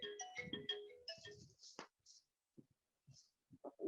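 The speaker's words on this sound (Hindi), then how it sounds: "फोन डिस्टर्ब कर रहा है" A mobile phone ringtone plays a quick run of bright melodic beeps, fairly quiet, then breaks off into near silence broken by a few soft clicks and murmurs.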